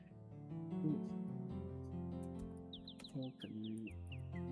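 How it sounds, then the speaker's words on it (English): Bird calls in the game The Crimson Diamond, a run of quick descending chirps over a steady low musical background with soft tones underneath, fairly quiet and repeating in a short series. "You can hear a swift river nearby and bird calls."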